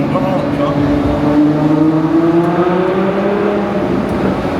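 A Novitec-tuned Ferrari F12 revving while maneuvering in Monaco, its engine a loud, sustained tone rising slightly in pitch, close by, with people talking over it.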